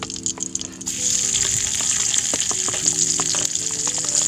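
Tomato, chili and shallots stir-fried in a pan, giving a loud, steady sizzle that swells after a quiet first second, with scattered clinks from stirring.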